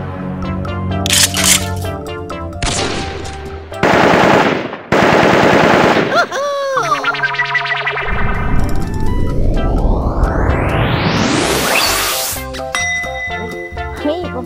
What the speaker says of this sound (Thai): เราไม่ได้ยิงทำร้ายนะเราจะยิงไล่เฉยๆ